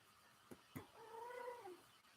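A cat gives a single drawn-out meow, faint and clear on its own, preceded by a couple of soft clicks.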